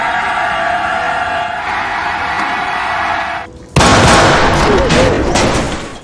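Gunfire in a film scene: a sustained rattle of background noise gives way to a sudden loud blast and ringing aftermath, with no speech.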